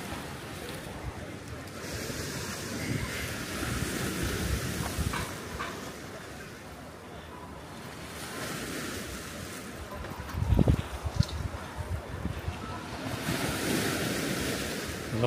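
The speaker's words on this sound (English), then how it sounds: "waves hitting the rocks" Surf washes and crashes continuously against rocks on the Benidorm coast, with wind buffeting the microphone and a sharper splash near the end.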